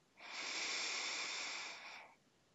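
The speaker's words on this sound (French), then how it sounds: "prenez une grande inspiration par le nez et expirez tout par la bouche" A single slow, deep breath drawn in through the nose and let out through the mouth during a guided meditation, a soft airy hiss swelling and fading over about two seconds, close and alone in a quiet room.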